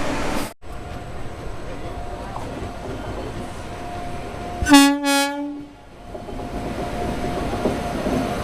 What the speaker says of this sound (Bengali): এই ট্রেনটা বেরোবে তারপরে ঢুকবে তো তখনই ট্রেনে উঠবো ট্রেন ঢুকুক আগে